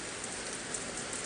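Steady rain falling and dripping through a leak, a dense even hiss with scattered patters, continuous and close, with no talking.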